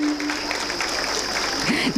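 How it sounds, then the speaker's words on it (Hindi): An audience claps at a school annual function in Udaipur, a dense, continuous patter of many hands throughout, with a voice faintly audible beneath. "please clap for them to motivate them"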